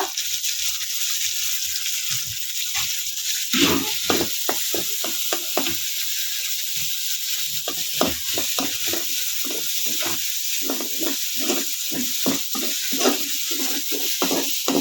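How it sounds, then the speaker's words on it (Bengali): Steady sizzling of chopped onions frying with garam masala in a pan, with repeated scraping strokes of a spatula stirring throughout; no voices. "পেঁয়াজগুলো একটু ভাজা ভাজা হোক।"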